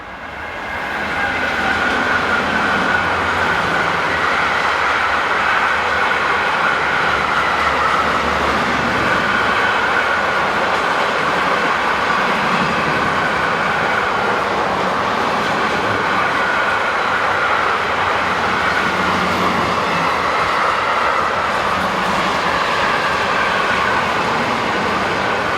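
Freight train hauled by locomotive 152134 on the Northeim–Hannover main line in Germany, carrying empty cars south from Hannover toward Ingolstadt, rolling past close by as a steady, loud roar of wheels and wagons lasting throughout with no talk.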